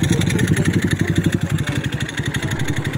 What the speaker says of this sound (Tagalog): Adi ara natay bagong abot Sniper 150 o Raider Carb.